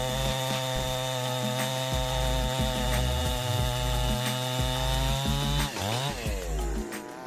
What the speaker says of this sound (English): a formidable chainsaw powered by advanced technology. This machine cuts logs with ease.